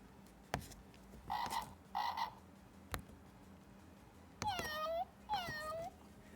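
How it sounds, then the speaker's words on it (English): Toy animal that barks and makes bubble sounds, giving a few short croaks followed by two high meow-like electronic calls, fairly clear over quiet room noise. "It like makes little animal sounds."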